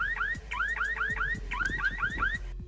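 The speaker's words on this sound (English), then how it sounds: "When you press a siren button, it starts to give an alarm." A Toucan rechargeable battery-powered wireless 1080p security camera's siren alarm sounds a rapid series of rising electronic chirps in two bursts, loud and close, with no talk, ending abruptly in silence.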